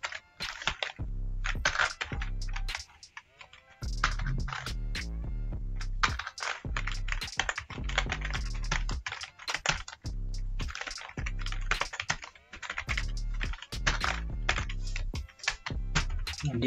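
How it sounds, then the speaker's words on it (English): Steady typing on a computer keyboard while entering an address in Microsoft Word, with quick clustered keystrokes in bursts separated by brief pauses, close and clear with no talk. "Now type your company address."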